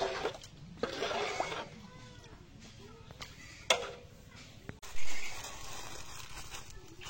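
Black Bengal goats on a farm bleating, a few distinct calls spread across the stretch with a louder one near the end, mixed with some thumps and background noise.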